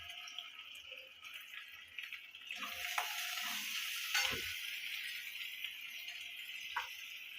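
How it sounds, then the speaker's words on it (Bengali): Onion and garlic fry in hot oil for a soybean chunk curry, a steady close sizzle with occasional stirring clatter throughout. "দিয়ে এটাকে খুব ভালো করে ভাজা ভাজা করে নিতে হবে।"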